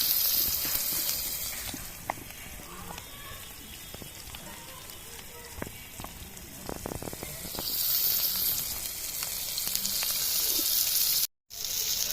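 Hilsa fish fries in hot oil on an outdoor stove on a cold winter afternoon, a steady close sizzle with scattered crackles and pops that swells louder toward the end.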